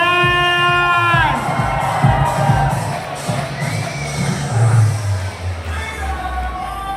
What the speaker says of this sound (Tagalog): Palakpakan na may kasamang hiyawan!